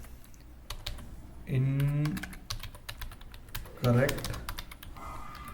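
Rapid clicking keystrokes on a computer keyboard patter in quick bursts, with someone speaking in Hindi over the typing in two short stretches.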